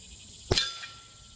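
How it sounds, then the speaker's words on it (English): A single sharp metallic clang as a .22 air rifle pellet strikes a metal squirrel silhouette target, close and brief with a short ringing decay over quiet background. "I'm gonna go back and take 4 shots at the target"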